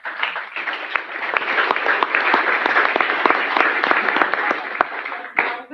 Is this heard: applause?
yes